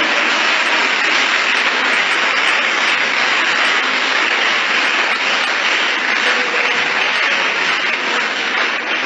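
A church congregation applauding in praise: dense, continuous clapping from many hands that fills the room, steady and loud throughout, with no spoken voice above it.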